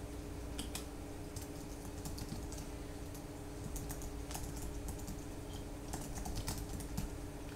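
Fingers tap steadily on a computer keyboard while form fields are filled in, a close run of irregular light clicks over a low constant hum.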